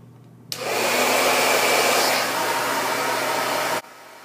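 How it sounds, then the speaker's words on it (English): A blow dryer switches on abruptly, roars steadily for about three seconds with a slight dip in pitch, then cuts off sharply. "rough dry it with the blow dryer first before you clip it up"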